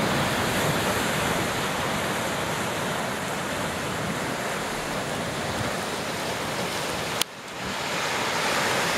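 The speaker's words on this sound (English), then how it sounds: "with the waves washing up on the lava rock." Ocean waves washing up on lava rock at a beach near Kaena Point, a continuous roaring surf wash mixed with wind noise on the microphone, loud and steady, with a brief dip near the end.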